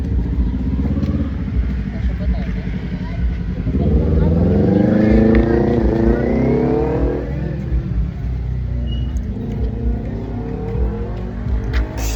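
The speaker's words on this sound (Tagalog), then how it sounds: "Tricycle." A motorcycle tricycle on a Philippine road revs and passes close by, its engine note climbing and then fading, while people chatter nearby.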